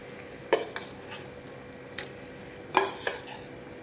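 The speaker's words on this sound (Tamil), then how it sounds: "அந்த மீனெல்லாம் இதில் போட்டுடலாம்" Marinated vanjaram (seerfish) pieces go into a Tamil fish curry pan: a few sharp clinks and scrapes of a spoon against the pan with soft stirring between, moderately close and fairly quiet, no talk.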